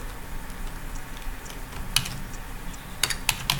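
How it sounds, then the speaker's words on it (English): A computer keyboard is typed on in short, scattered clusters of light clicking keystrokes over a steady background hum, with a brief burst near the end. "This time I'm going to type"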